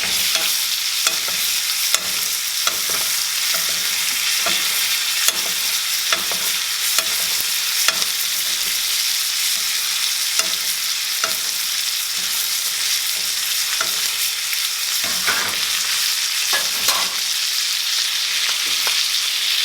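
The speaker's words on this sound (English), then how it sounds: "We'll do the same thing on this side. Some butter baste." Prime beef ribeye sizzles steadily in a stainless steel All-Clad pan while butter is spooned over it, a loud continuous frying hiss broken by regular spoon scrapes and taps, with no voices.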